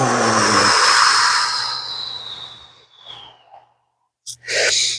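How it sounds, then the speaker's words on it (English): A long, loud, breathy exhale during a yoga morning flow, fading away over about three seconds. Quiet follows, then a brief sharp breath and another burst of breathing at the end. "And exhale."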